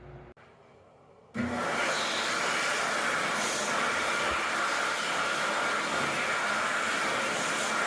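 An Xlerator hand dryer with a custom cover in a Subway restaurant starts abruptly after a second of quieter hum, a loud, steady roaring blast of air continuing without pause to the end.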